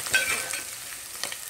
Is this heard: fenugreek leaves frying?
yes